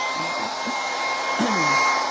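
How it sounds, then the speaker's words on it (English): A hair dryer blows with a steady airy roar and a constant high whine, running continuously at close range. "And I'll hit that with a hairdryer before adding it over here."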